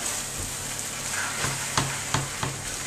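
Steady sizzling as boiling water and a stock cube go into a hot pan for steak pie sauce, with a few sharp clinks of a utensil against metal, close up and moderately loud.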